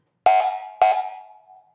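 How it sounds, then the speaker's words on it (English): Two sharp, ringing horn-bell tones, each struck cleanly and left to decay, the second lingering longer into a fading hum. "That's the horn. That's the bell for the horn."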